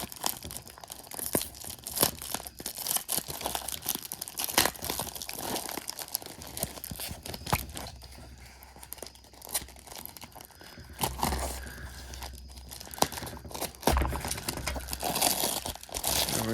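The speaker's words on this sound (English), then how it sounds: "More tape to cut." Packing tape is cut and torn away while a 1946 Lionel train set is unboxed, producing close, irregular bursts of crinkling, ripping and crunching.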